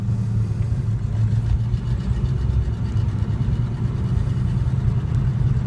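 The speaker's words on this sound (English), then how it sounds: "You'll be able to hear the motor" A car engine runs under load in second gear with the heater off, giving a steady, close, slightly throaty hum and rumble that holds level throughout with no talking.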